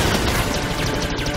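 Dense, continuous gunfire in the video game Star Wars Jedi: Fallen Order, with rapid bursts and crashing impacts, loud and close, filling the whole stretch without pause.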